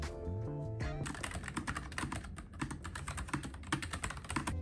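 Rapid close typing on a computer keyboard at a desk, a steady stream of crisp keystroke clicks following a brief musical tone at the start.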